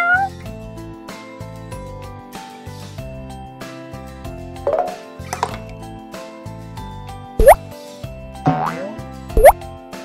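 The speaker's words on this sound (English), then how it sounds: "Cat." A cartoon cat meows in a children's wooden animal jigsaw puzzle game, several bright sliding meows with boing-like tones over a bouncy synthesized tune.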